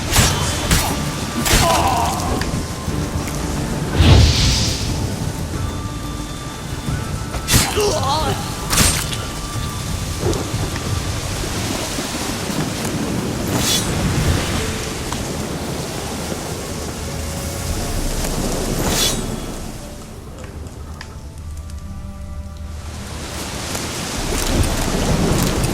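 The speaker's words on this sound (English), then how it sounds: "A storm, damn it." A thunderstorm rages in The Witcher 3, with rain hissing continuously and sharp thunder cracks and rumbles breaking out now and then. Voices come and go over the storm.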